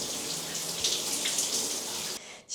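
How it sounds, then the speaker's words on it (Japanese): Overhead shower at the Hilton Yokohama pouring water into a bathtub, a steady, close, broadband rush of running water that cuts off near the end. "浴槽に入りながらシャワーの水圧チェックしてたんですけど"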